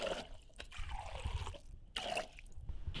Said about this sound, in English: You wanna take cold filtered water and put in 4 to 5 cups